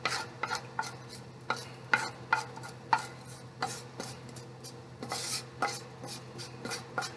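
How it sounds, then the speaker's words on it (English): Sausage stirred into gravy in a pan, a close series of rhythmic scraping strokes over a low, steady sizzle. "I'm gonna go ahead on and incorporate the sausage into that."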